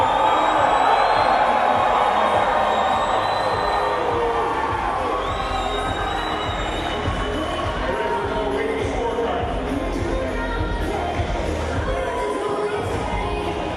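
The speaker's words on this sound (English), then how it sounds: "This crowd heavily favors Bobby Gasdia as the winner" A large crowd at a Cage Titans MMA title fight cheers and shouts steadily throughout, a dense wash of voices filling the room at a constant level.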